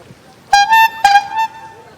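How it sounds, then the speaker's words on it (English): Two short toots of a car horn in Benidorm, the second slightly longer, loud and close. "Honk your horn."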